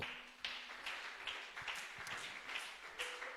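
Scattered, faint rhythmic clapping from a congregation inside a church, soft taps in an uneven pulse rather than a full ovation, with no one talking.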